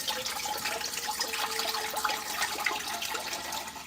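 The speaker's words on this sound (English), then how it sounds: "So I've got just a vegetable broth, and I'm going to pour the whole thing in. Pour the whole thing in my pot." Vegetable broth is poured from a carton into a cooking pot, a steady close splashing and gurgling stream of liquid that lasts a few seconds with no talking.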